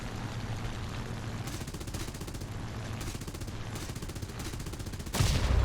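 The guns of a Ki-108 plane fire in the video game War Thunder, a sustained rapid rattling stream over a droning engine, close and fairly loud, ending in a heavier burst.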